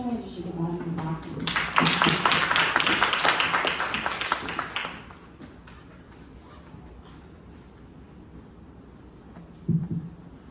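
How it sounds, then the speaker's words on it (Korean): An audience at a school admissions information session claps to welcome a speaker, a burst of applause that lasts a few seconds, then fades into quiet room noise as people talk around it. "나오실 때 박수로 환영해 주시기 바랍니다."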